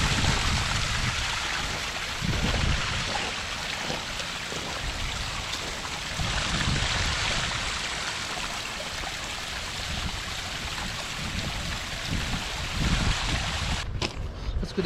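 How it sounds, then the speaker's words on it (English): A small hidden waterfall pouring into a pond on a cold snowy day, a steady broadband rush with gentle surges, continuous and fairly close, with no talk. "Kind of a hidden waterfall."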